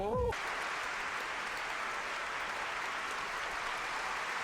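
Crowd cheering in a One Piece anime episode, a steady distant roar of many voices that continues evenly throughout after a brief sound at the start.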